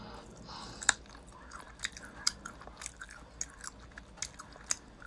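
Close, wet chewing of food during a meal, with irregular crunchy bites and smacks spread through the few seconds against a quiet room.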